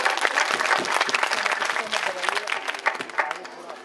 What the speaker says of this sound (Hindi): हम सब लोगों को ताली बजानी है